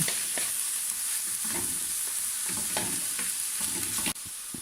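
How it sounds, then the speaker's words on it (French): Ground beef mixture with herbs is being stirred in a bowl, giving a steady moist scraping and squelching texture with soft repeated strokes that continues throughout, with no voices. "On met ça dedans, on vient mélanger ici."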